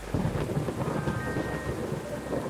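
Thunder from the Coffee Talk 2 video game rolls with steady rain, a dense low rumble that runs the whole time, fairly loud and alone.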